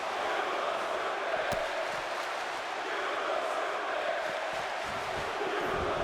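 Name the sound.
crowd chants in WWE 2K18 video game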